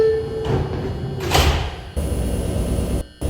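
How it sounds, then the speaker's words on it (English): Sliding doors of an R142 New York subway train on a 6 local at Saint Lawrence Avenue rumble shut with a thud, followed by steady car hum, close by and without talking. "Stand clear of the closing doors"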